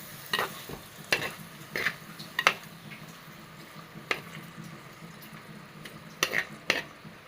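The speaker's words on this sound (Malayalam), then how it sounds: "ഇതൊന്ന് ഇളക്കിയിട്ട് അങ്ങനെ മൂടി വെച്ച് കൊടുക്കാം" A cooking mixture of small sardines and gooseberries stirred in a pan, with scattered scraping clacks of a spoon against the metal over a low background sizzle, irregular and close by.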